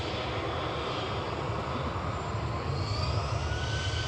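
Airliner taxiing out at Manchester Airport under call sign Shuttle 3 Romeo, its jet engines giving a steady, loud, broadband roar with a faint rising whine, alone with no talk.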